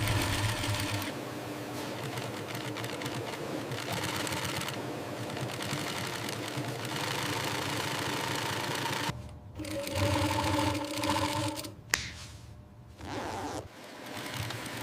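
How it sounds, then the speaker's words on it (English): Industrial sewing machines stitch sofa upholstery on a factory floor, producing a continuous rapid mechanical whir with steady rattling, broken by short pauses and restarts near the end. "A smooth transition to the sewing floor, where precision tech meets human craftsmanship."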